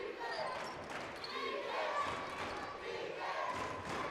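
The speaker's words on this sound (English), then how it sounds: "Crowd getting into it here for the Pirates. That's nice to hear" A crowd at a girls high school basketball game cheers for the Pirates, a broad roar of voices rising and swelling over the gym, with sneakers and bounces mixed in.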